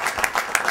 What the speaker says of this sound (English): let's clap for Governor Ryan.